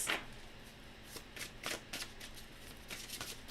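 Oracle cards, flimsy and not sturdy, being shuffled in several quick crisp riffling bursts, close and clear with no talking.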